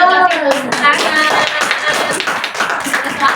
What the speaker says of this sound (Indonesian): Semuanya. Kasih tepuk tangan.